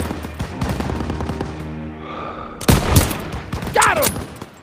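Bursts of gunfire from a Call of Duty: WWII battle, sharp cracks and heavy volleys at close range, with a loud cluster in the middle and a shouted voice near the end.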